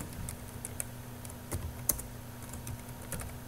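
A computer keyboard is typed on at a steady, quiet pace while a Pascal program is entered, with soft irregular key taps and an occasional sharper keystroke over a low hum.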